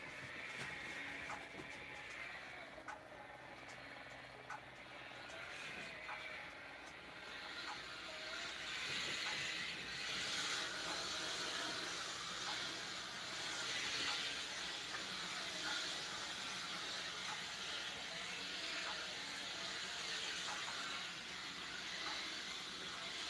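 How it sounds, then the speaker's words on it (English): Steady hiss of steam from a garment steamer used on a vintage wedding dress, continuous and moderately close, swelling slightly in the second half with faint handling clicks. "Gotta wait for the steam."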